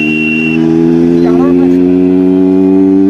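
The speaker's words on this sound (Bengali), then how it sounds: "কাওয়াসাকি আসছে, কাওয়াসাকি।" A loud, cheaply modified Kawasaki motorcycle approaches across a bridge with a strong, steady droning engine note, while someone talks over it.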